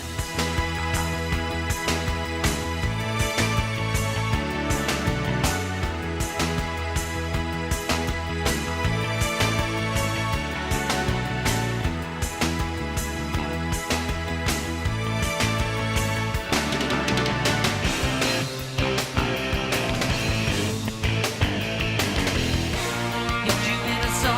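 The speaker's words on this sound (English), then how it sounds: "And the reggae section is Canadian reggae" A Canadian-style reggae passage from a song plays continuously, with a steady rhythmic pulse of offbeat guitar chops, bass and drums throughout.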